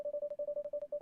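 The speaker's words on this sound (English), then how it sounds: "The moment you turned to have a look at the phone, it started ringing." An old-fashioned telephone in a detective video game rings with a rapid, steady electronic warble, a loud pulsing tone repeating about a dozen times a second without pause.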